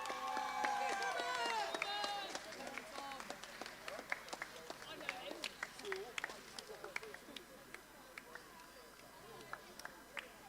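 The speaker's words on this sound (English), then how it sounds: "Big round of applause" Applause breaks out for the winning boy at a swimming championship prize-giving, with scattered claps from a crowd in a large hall, an announcer's voice over the start, the clapping thinning into sparse individual claps.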